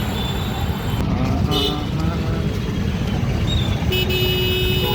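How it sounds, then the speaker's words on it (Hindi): Evening road traffic at Subhash Chowk in Gurgaon, with a steady close rumble of engines and several car horns honking in short bursts throughout. "यहाँ पे इस टाइम काफ़ी ट्रैफिक होता है शाम के टाइम"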